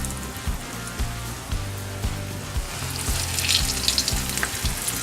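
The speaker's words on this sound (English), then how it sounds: "Hear that sizzle?" Loud, crackling sizzle of chicken frying in hot oil, close by, with bursts of popping and a steady hiss throughout.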